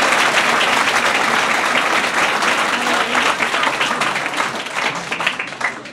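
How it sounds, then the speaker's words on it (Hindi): An audience at a coaching-institute event in Jamui breaks into dense, loud applause that holds steady, then thins and fades toward the end. "ताली बजाइए"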